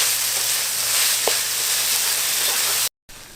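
Potatoes with spices fry in a hot pan, a steady close sizzle that runs on alone before cutting off briefly near the end.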